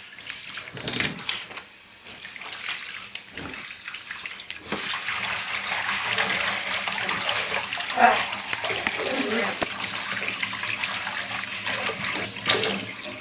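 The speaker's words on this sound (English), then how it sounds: "Always wash your hands after doing a craft." Water runs from a tap while hands are washed after a craft activity, a continuous close splashing flow with a child and an adult talking over it.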